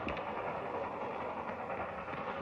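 A train rolls past steadily in an old western film, a continuous broad rumble with faint clattering, moderately distant and without breaks.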